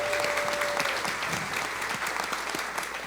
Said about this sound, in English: a preemptive round of applause for the Lynx playoff game this coming Sunday